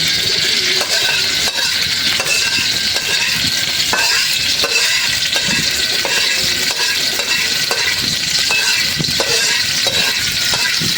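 Fish sizzles steadily in hot oil in a pan, a dense continuous crackle. Light clinks and scrapes of stirring recur throughout, with no voices.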